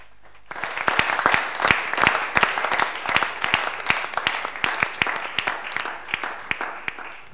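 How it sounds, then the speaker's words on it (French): A church congregation bursts into sustained applause, dense overlapping claps with a few sharper hand strikes, loud and continuous for several seconds at a spiritual warfare worship service. "Est-ce qu'on peut d'abord acclamer pour la parole de Dieu?"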